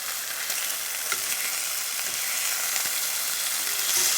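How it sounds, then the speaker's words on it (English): Bacon sizzling in a frying pan as its fat renders out, a loud, even hiss with scattered crackles and a few light clicks, like pieces being stirred or nudged, close up with no voices. "You hear that bacon sizzle."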